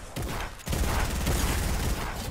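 A burst of rapid Fortnite gunfire crackles loudly after a brief opening shot and keeps rattling to the end, with no talk over it.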